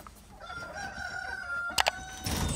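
A rooster crows in a backyard coop among Brahma-type chickens, one drawn-out call rising and holding, followed by a few sharp clucks or scuffs and rustling nearby.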